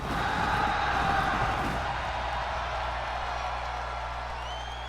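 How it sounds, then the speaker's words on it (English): A large arena crowd in Baltimore at Monday Night Raw roars and chants for wrestler Cody Rhodes, a loud, dense wall of sustained cheering that eases slightly toward the end. "the crowd here in Baltimore serenading Cody Rhodes here"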